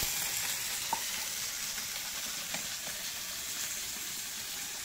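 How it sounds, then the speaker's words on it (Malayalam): Mackerel frying in a small pan, a steady bright sizzle of hot oil with a few soft pops and spatters, close and continuous with no talking. "ആദ്യം മൂന്നെണ്ണം വറക്കാം"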